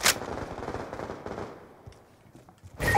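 Rapid automatic gunfire in a Call of Duty Hardpoint match, a close burst of shots that stops, leaving near quiet before another loud blast at the end.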